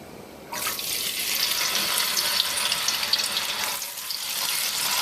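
Soaked chickpeas (channa) hit hot oil and settle into a loud, steady bubbling hiss of frying that starts abruptly and holds, briefly dipping before rising again.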